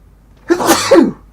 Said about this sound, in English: Ooh, a sneeze coming on.